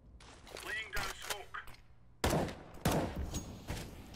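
Gunfire in CS:GO during a retake, with bursts of shots and sharp impacts trading back and forth, while someone talks over the action.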